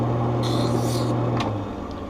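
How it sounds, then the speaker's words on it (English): A hand stone rubbing the rough edges of a prescription eyeglass lens for a Polo 2110 frame, a steady close gritty scrape under a constant low hum, ending in a brief harsher rasp. "Back to the handstone to smooth out those rough edges."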